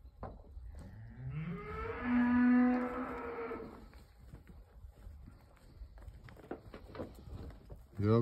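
An Angus–Charolais crossbred cow on a cattle farm lets out one long, loud, close moo lasting about two seconds, surrounded by shuffling hoof steps and scattered farm clatter, with a second low call starting right at the end.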